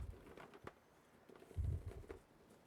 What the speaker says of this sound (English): the bird is like 2 feet away from me right now